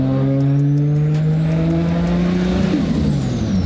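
A 700 hp Nissan Skyline R32 GT-R with an RB26 engine, T51R turbo and external screamer pipe, driven up a mountain road, roars loud and close. Its pitch climbs steadily, then drops sharply as the engine comes off throttle.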